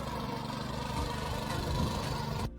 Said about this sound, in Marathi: ते माझे बाबा आहेत, ते ट्रॅक्टर चालवत आहेत.